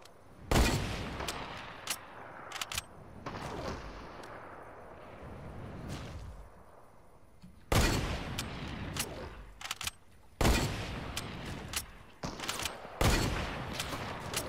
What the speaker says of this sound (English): there's like five people sniping at me right now